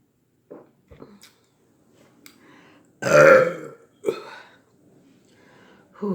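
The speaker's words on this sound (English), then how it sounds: "See if I can give y'all a couple of good burps" A man lets out a few burps between quiet pauses, one deep, loud, drawn-out belch standing out in the middle, with shorter, softer ones before and after it, heard up close.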